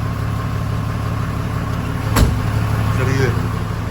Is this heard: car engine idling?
yes